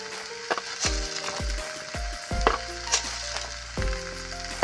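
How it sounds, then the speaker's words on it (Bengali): A utensil stirs a carrot sandesh mixture in a pan, making irregular scraping knocks and clatters over a soft sizzle, close and moderately loud, with no talking. "এটাকে আমি আবার একটু নেড়ে নেবো ভালো করে"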